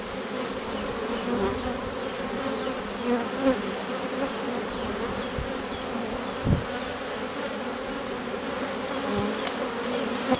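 Dense, steady buzzing of honeybees swarming over an open frame of a Carpatica colony, close and continuous for the whole stretch with a few brief louder knocks and handling bumps.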